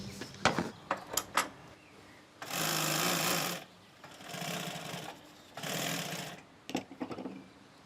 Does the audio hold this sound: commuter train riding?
no